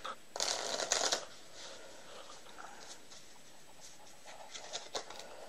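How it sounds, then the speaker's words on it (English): A deck of playing cards being shuffled, a quick riffle burst up close followed by softer handling and light card taps. "I'm going to shuffle up the cards."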